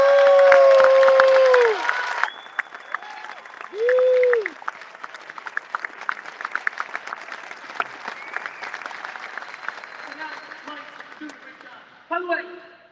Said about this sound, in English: So people can clap for you.